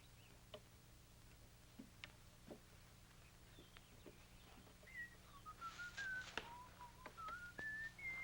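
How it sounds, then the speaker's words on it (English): A person whistles a faint, wavering tune that grows clearer toward the end, accompanied by soft intermittent clicks and taps in a quiet room. "Would you quit that whistling?"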